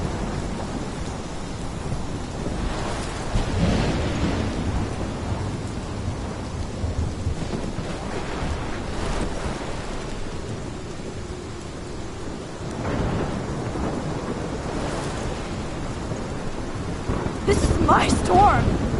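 Thunderstorm in the video game Life is Strange: steady heavy rain with low rolling thunder swelling several times, a sharper crack near the end.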